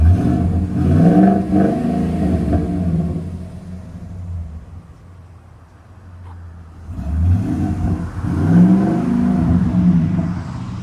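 A 2015 Ford F-250 with a 6.2L V8 and Flowmaster 50 Series exhaust revs hard twice, deep rumbling rises separated by a quieter idle, loud and close.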